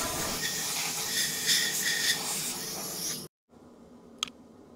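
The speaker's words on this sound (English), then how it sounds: "Theoretically, I should be able to blow some air through here." Compressed air hisses steadily through a homemade greaseable 25mm excavator pin for about three seconds, cuts off abruptly, then a faint background follows with one short sharp click.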